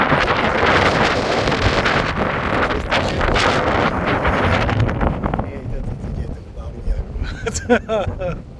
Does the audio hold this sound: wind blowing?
yes